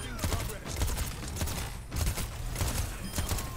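Overwatch 2 gunfire in a match, rapid bursts of shots recurring under a busy mix of game effects and a voice talking.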